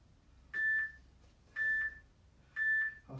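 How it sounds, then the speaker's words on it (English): Electronic workout timer beeping during a live home fitness class: three evenly spaced, fairly loud tonal beeps about a second apart, each lasting around a third of a second, over a quiet background. "Okay, that's the timer."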